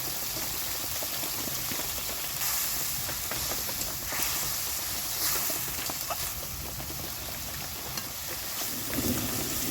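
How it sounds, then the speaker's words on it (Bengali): Spice paste with turmeric sizzles and bubbles steadily in hot oil while being fried for a mixed vegetable curry, a continuous close crackle with faint scraping, and no voices. "মশলাটা খুব ভালো করে কষিয়ে নিয়েছি তেলের সাথে।"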